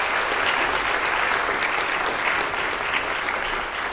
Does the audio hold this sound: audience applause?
yes